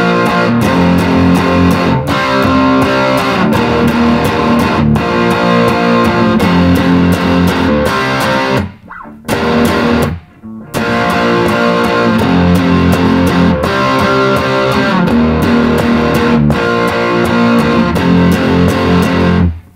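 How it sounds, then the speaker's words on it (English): Heavily distorted electric guitar pounds out the chorus of a song, loud and continuous strummed chords with two brief stops where the sound cuts out before crashing back in. "Got a lot of distortion."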